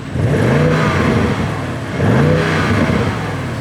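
A 2021 Audi S8 engine revs hard twice in dynamic mode, the pitch climbing and falling back each time, loud and close with a steady growl between the revs.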